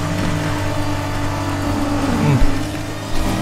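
Porsche 911 RSR in Need for Speed Heat, held on nitrous boost: a steady, loud engine drone with a tonal whine, a brief pitch dip and bump partway through, and no voices.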